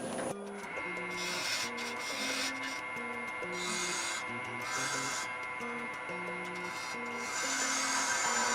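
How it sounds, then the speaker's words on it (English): Parting tool cutting a small tenon on a spinning wood lathe workpiece, a steady close scraping hiss with a continuous motor drone and tonal hum throughout. "Parting tool, and I'll cut in that small tenon, that gap, and that end."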